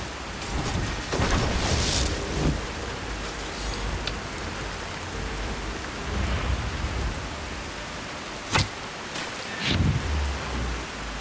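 Steady rain falls in the video game Skyrim, a continuous broad hiss with low rumbling thunder beneath and a couple of sharp, brief cracks standing out.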